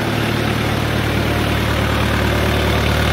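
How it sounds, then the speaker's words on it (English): A Timberking 2000 sawmill engine runs at full throttle, a loud, steady, close-up droning roar with a constant rumble and no change in pace, no voices. "So if I just bump that up, that's full throttle."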